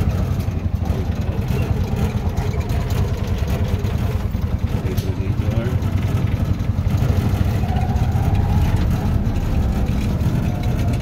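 A tuktuk tricycle's small engine runs steadily and close by, a loud continuous low chugging throb with a slight rise in revs partway through and no talking over it.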